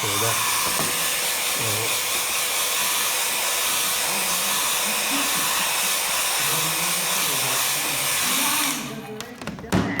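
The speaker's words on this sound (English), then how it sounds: "So let's get the hairdryer on that" A hair dryer blows on a wet landscape painting of Slemish Mountain in County Antrim during an art class, giving a steady, close whooshing hiss that runs continuously and then cuts off near the end.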